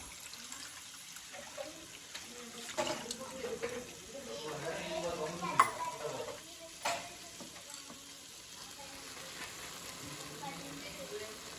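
Tamarind juice poured into cooked dal and stirred, giving a soft liquid swirl and gentle bubbling with a few brief clinks, steady and close throughout.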